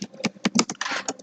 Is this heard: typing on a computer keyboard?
yes